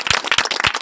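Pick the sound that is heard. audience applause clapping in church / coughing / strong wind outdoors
audience applause clapping in church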